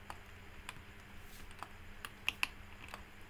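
Light, scattered clicks of computer keys and a mouse being pressed while working in 3ds Max, soft and close with a faint background hum.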